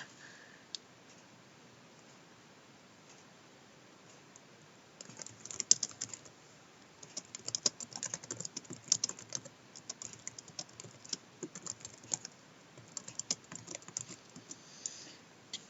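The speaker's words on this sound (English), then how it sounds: "I can't type and talk at the same time." Computer keyboard typing during a live stream, starting after about five seconds of near quiet and then running as irregular bursts of light clicking keystrokes, close and fairly soft, with no talking.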